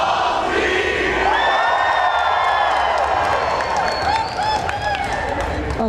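A studio audience yells and cheers together on cue, a loud, dense crowd roar with whoops that holds steady for several seconds, close and filling the room.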